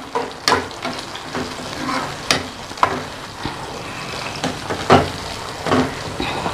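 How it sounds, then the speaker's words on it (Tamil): Onion and tomato sauté in a pan for a spicy green turkey berry curry, a steady frying sizzle broken by loud irregular spatula scrapes and knocks against the pan, close and without speech. "வெங்காயம் நல்லா வதங்கிட்டு தக்காளியை போட்டுடலாம்"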